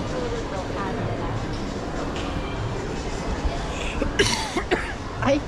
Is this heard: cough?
yes